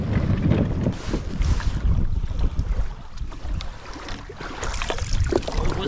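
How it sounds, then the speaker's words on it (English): Strong storm wind buffets the microphone on a kayak outing in an Old Town Sportsman 106 PDL, a constant loud roar with rough gusty rumble and no speech. "Super duper windy."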